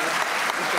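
A brief burst of dense applause from a crowd during a legislative chamber session, steady and fairly loud.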